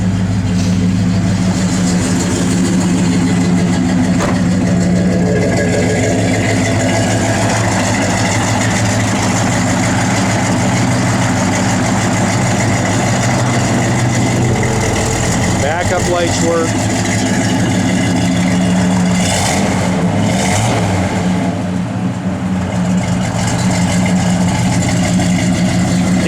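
A 1970 Chevrolet Chevelle SS engine idles steadily with a deep low rumble throughout, close by, while someone talks over it; no clear revving stands out.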